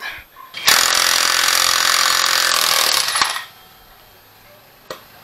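A powered impact tool on a 39 mm socket removes a bolt during vehicle maintenance, a loud, harsh, continuous rattling burst of about three seconds followed by a single metallic clank.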